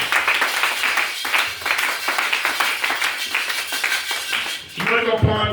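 A church congregation at a special worship meeting claps loudly and cheers, with dense steady applause and voices calling out, and talk near the end.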